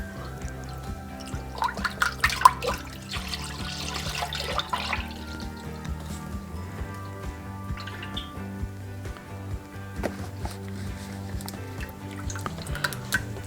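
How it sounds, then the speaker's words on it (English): A 64-ounce container of 100% vegetable juice poured into a cast iron pot, a continuous liquid gurgle and splash with irregular drips, moderately loud and without talk. "We're going to pour in a 64-ounce container."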